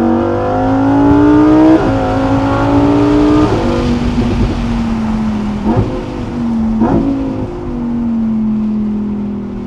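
A loud car engine revs hard and climbs through rapid gear shifts, four quick upshifts, each breaking the rising drone before it builds again.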